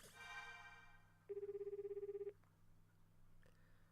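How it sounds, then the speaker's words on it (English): A telephone rings once in the video game Root Double, a single warbling electronic burst about a second long with a faint background hum and no voices. "The dial tone rang"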